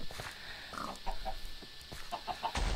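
In a Minecraft Block Hunt match, a chicken gives a few short clucks, a pair near the middle and a quick run of three toward the end, ending in a sharp click.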